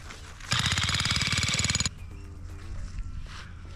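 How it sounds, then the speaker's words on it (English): A jackhammer pounds compacted clay in a fast, loud, rapid-fire burst lasting over a second, then cuts off, leaving quieter outdoor background. "Jackhammer for the win."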